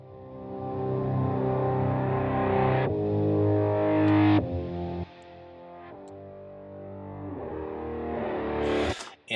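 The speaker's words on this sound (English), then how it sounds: "And then guitar pad. These are chords under B here. I'll solo them." Soloed guitar pad chords from a level-one theme for a clockwork game score, heavily processed with distortion and effects, sustaining dense held chords that shift at a few points before a brief bright burst at the end.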